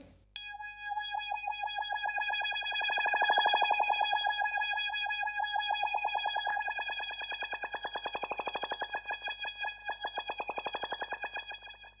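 Korg Fisa Suprema digital accordion playing a sustained melody with rich, layered harmonics, soaked in reverb and delay echoes, steady and loud throughout with no voices.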